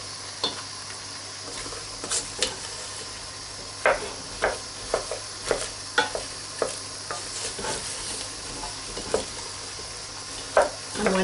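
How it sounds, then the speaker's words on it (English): Beef stew with flour being stirred in a pot, a spoon scraping and clacking in repeated strokes over a steady sizzle, close up with no talking. "So we'll just give it a good old stir to cook the flour."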